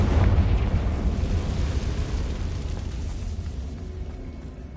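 A Confringo fire spell explosion in Hogwarts Legacy: a loud, deep fiery boom at the start that rolls on as a sustained rumbling roar, slowly fading over several seconds, with no voices.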